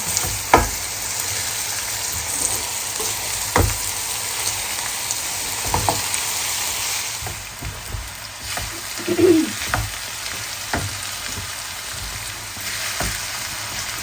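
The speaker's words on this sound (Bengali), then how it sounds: "আলু ভাজি সবসময় জোরে জাল দিয়ে ভাজি করতে হয়" Potatoes frying over high heat in a pan, with a continuous crackling sizzle and scattered sharp pops and clicks spread across the clip.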